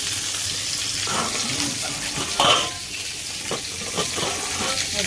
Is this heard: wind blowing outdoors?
no